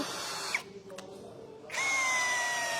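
A power screwdriver whines in short bursts driving screws into pine wood, high and steady, with a brief pause between runs; close and fairly loud.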